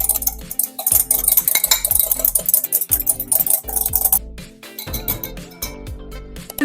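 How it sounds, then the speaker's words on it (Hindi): Harvest salad ingredients for a weight-loss recipe get tossed together in a bowl, producing busy, close-up clinks, scrapes and stirring knocks of utensils against the dish in an irregular, vigorous rhythm. "अब हम इसको मिक्स कर लेंगे सारे इंग्रेडिएंट्स को अच्छे से"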